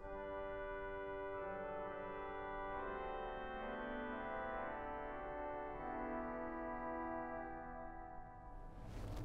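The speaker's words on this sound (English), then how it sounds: "The other stop that we have a particularly fine example of on this organ is the oboe" The oboe stop on the swell of the St Edmundsbury Cathedral pipe organ plays soft, sustained reedy chords that change gradually over several seconds, heard alone and quietly.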